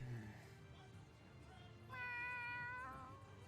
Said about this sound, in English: Angry cat, big cat, very big kitty.